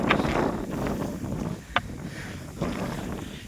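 Cool wind blows hard on the seventh hill of Velliangiri mountain, gusting in loud buffeting bursts against the microphone with brief sharper flutters in between.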